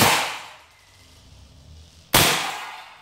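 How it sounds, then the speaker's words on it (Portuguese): Two sharp pops about two seconds apart, each a crisp snap with a short decaying ring, as shots from a Desert Eagle airsoft pistol strike a metal can at close range. "Dois disparos na latinha"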